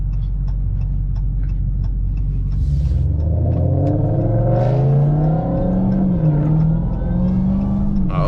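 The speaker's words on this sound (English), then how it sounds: "He just making noise. See, that's the thing about Mustangs. They so loud" A loud car engine roars and revs close by, a deep rumble climbing in pitch as it accelerates, a Ford Mustang with its exhaust note sustained throughout without any talking.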